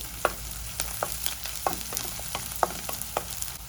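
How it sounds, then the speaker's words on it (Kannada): Onions fry in a pan with crushed ginger and garlic, a soft continuous sizzle broken by light stirring scrapes and taps at irregular intervals, close and quiet with no voices. "ಈರುಳ್ಳಿ ಸ್ವಲ್ಪ ಫ್ರೈ ಆದಮೇಲೆ ಜಜ್ಜಿರೋ ಶುಂಠಿ ಬೆಳ್ಳುಳ್ಳಿ ಒಂದು ಸ್ಪೂನ್ ಅಷ್ಟು ಹಾಕಿದ್ದೀನಿ"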